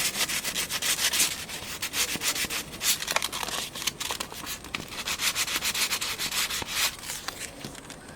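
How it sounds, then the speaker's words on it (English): Sandpaper rubbing over a repaired canvas patch to smooth it, a soft, steady scratchy back-and-forth with uneven strokes, close and quiet with no talking. "I'm gonna just sand it a bit more"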